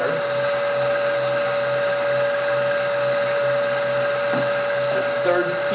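An electric mixer whirs steadily as it beats biscotti dough, a constant high-pitched motor drone with no pauses that runs the whole time and sounds close by.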